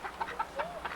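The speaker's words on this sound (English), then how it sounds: "Some of the chickens over in the corner." Chickens in a farm chicken yard cluck softly in quick, uneven bursts, faint and somewhat distant over low background noise.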